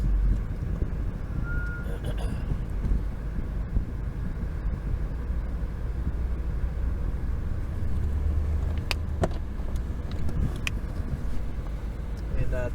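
Exotic sports car on a racetrack, its engine a low steady rumble close by as it creeps forward, with a few clicks and beeps and a person talking over it.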